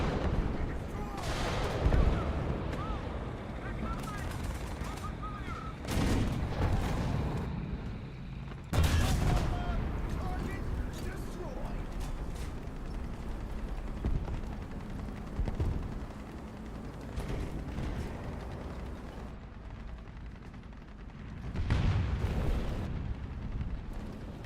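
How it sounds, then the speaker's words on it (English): Gunfire and shell impacts rumble through a War Thunder battle, repeated heavy bangs and blasts over a constant roar, with a few sharper, louder hits spaced across the stretch. "Who the fuck is shooting at me?"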